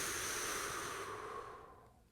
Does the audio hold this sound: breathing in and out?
yes